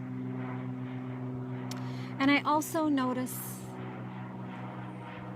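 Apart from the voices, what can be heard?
airplane flying overhead, droning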